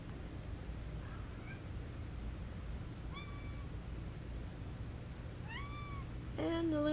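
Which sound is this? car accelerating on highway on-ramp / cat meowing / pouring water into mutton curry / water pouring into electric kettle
cat meowing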